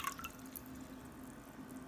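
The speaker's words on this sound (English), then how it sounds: "you're gonna pour your water into the bowl," Water pours into a bowl for a pepper experiment, with a steady, quiet trickling wash and a few brighter drip-like splashes near the start.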